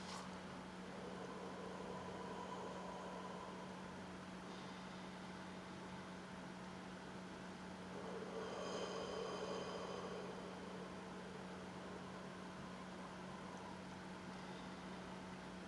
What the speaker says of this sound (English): This was in the microwave for 2 minutes and 30 seconds